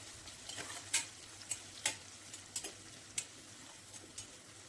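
Onion, green chili and curry leaves sautéing in a pan for beetroot rice, a faint steady sizzle broken by several sharp clicks and scrapes of a spoon stirring against the pan, no voices.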